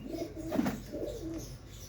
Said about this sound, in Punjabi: ਕਰੋ ਬਾਈ ਜੀ ਚੈੱਕ ਕਬੂਤਰਾਂ ਨੂੰ